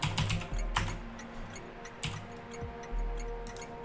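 Someone types on a computer keyboard nearby: quick, irregular clicks and taps at a fairly quiet level, with short bursts and brief pauses.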